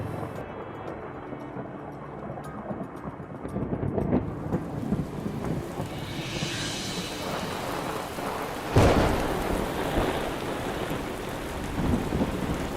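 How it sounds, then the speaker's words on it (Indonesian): Steady heavy rain pours down with rolling thunder, including a sharp loud crack near the middle, filling the whole scene without any voices. "hujan lagi"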